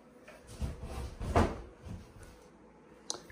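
Linen closet door in a home's bathroom area opening or closing, a soft wooden knock and rub with a sharper click near the end, quiet and close in a still room.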